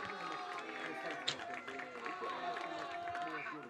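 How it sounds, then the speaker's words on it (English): Crowd noise at a high school baseball tournament game swells steadily in the background, a busy murmur of many voices with a brief sharp peak, heard at a distance under the general din. "Crowd's getting loud."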